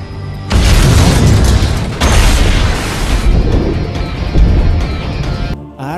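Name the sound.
bomb explosion on a bridge in a film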